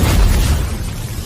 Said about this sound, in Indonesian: ia pun segera melepaskan ledakan energi dari teknik gerbang ajaibnya agar bisa segera mengakhiri pertempuran